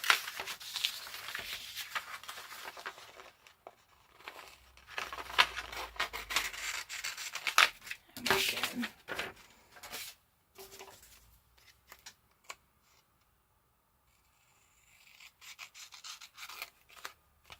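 Scissors cut through paper to make craft pocket tags, giving close, intermittent rasping snips and rubbing strokes that come in bursts and thin out into quieter gaps near the end.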